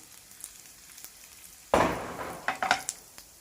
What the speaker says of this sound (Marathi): लाल मिरची कट करून टाकायची आणि हे थोडंसं 2 मिनिट परतून घ्यायचे